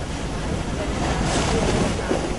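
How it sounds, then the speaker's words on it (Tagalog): Heavy, continuous rushing water and wind roar as typhoon waves pound against a passenger ship's hull at night, with a dull rumble throughout. "Malakas ang hampas ng alon at naramdaman naming binabayo nito ang aming barko"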